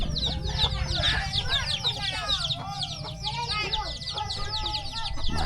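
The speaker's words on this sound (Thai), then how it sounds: "เสียงเป็ดเสียงไก่ฮ้องจะแซว" Chickens cluck and chatter densely in a rural hilltop village, a busy continuous flock close by with overlapping calls and steady low background rumble throughout.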